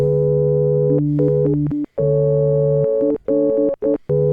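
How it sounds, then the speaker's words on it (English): Sustained Korg Minilogue synthesizer tones with a smooth organ-like timbre, shifting between held pitches and chords with brief gaps of silence, loud and close. "you can create some really organ-like tones"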